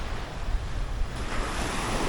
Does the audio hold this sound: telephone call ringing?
no